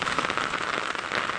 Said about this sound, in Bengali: এই বৃষ্টিটা খুবই ভালো লাগে